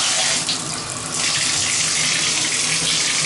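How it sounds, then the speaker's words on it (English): Hot water runs steadily from a new bathtub faucet under good pressure, a loud continuous broadband rush that briefly dips before settling into an even gush. "there is the water pressure for hot,"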